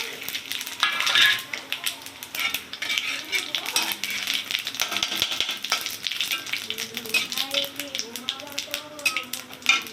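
Oil sizzles and crackles steadily as cumin, bay leaves and dried red chillies fry, with occasional utensil clinks and a voice talking intermittently over it.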